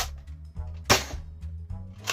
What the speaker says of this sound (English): You just pull the trigger to fire,